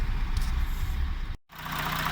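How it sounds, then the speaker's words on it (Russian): A 2016 Audi Q7 with a 3.0-litre CVMD diesel engine idles with a reported knock, giving a steady, close, low rumble broken by a brief cut before the idle resumes. "клиенту не нравится стук под моторным отсеком, особенно когда проезжает мимо стены, где-нибудь мимо забора"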